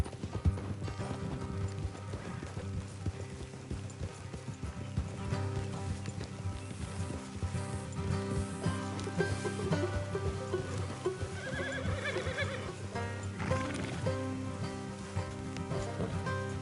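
Horses clip-clopping along at a steady pace in the Red Dead Redemption 2 video game, with a neigh and soft rain pattering in the background, a continuous rhythmic hoofbeat close by, faint music and occasional voices underneath.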